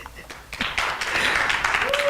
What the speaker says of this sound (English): give all of these entrepreneurs just another round of applause